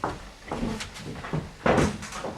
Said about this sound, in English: Doors creak, and the kitchen door shuts.